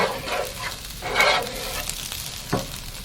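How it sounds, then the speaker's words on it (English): Onions, garlic and ginger sauté in a pan with a continuous close sizzle, broken by scraping stirs and a utensil knock. "cooking the onions, garlic, and ginger until the ginger has softened"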